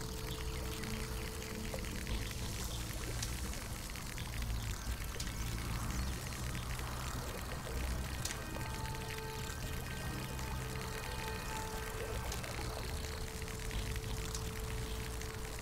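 A steady rushing, pouring wash of water as a character crosses a stream in the video game Smalland, continuous and fairly loud throughout with no talk.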